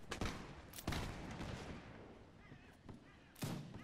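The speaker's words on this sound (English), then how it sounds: "No, I think the cannons are firing." Cannons boom in a Napoleonic-era Mount & Blade battle, several heavy blasts at irregular intervals with rumbling gunfire between them, loud and close, and no talk over them.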